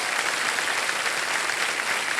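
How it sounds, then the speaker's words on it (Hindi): Studio audience on a television quiz show applauds, a short, even burst of dense clapping throughout. "तालियां बज जाए इनके लिए।"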